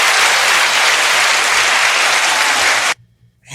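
A dense, loud burst of crowd applause plays as a sound effect introducing a podcast guest, sustained evenly for about three seconds before cutting off abruptly.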